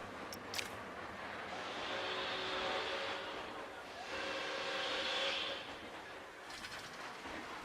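A train passing in a theme park building game, a loud hissing, rumbling wash that swells twice with a high steam-whistle-like tone, close and continuous.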